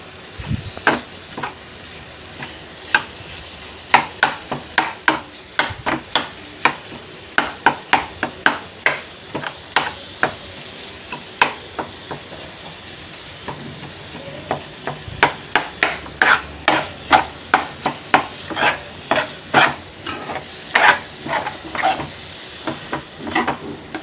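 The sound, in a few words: stirring and mixing curdled-milk bhurji in a pan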